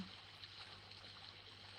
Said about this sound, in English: you can hear the sound of the water calmly behind you